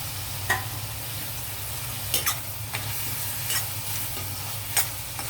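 A spatula stirs tomato, green chillies and curry leaves in a hot pan, several distinct scraping strokes spaced a second or so apart over a steady low sizzle, close by with no speech.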